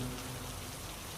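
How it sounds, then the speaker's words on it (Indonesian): Rain falling steadily from the sky, a dense unbroken hiss that stays even and fairly quiet throughout, with no voices. "turunlah hujan dari langit"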